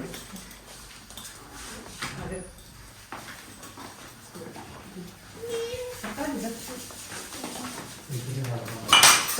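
Spoons and dishes clink and rattle at a lively Punjabi family meal in Italy, mostly beneath ongoing conversation and laughter, with a sharper burst of metallic clatter near the end.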